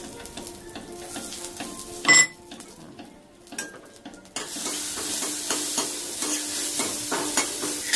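Crushed cumin, coriander and garlic tempering in hot ghee for a lentil dal: a stir and clink of a utensil, then a loud, steady frying sizzle that runs on continuously.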